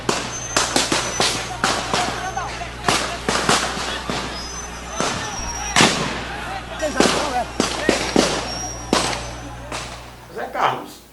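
Sharp gunfire cracks during a 1997 street uprising in Praça Floriano Peixoto, Alagoas, firing in irregular bursts and single loud reports over the whole stretch, with shouting crowd voices between shots.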